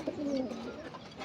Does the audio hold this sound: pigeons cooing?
yes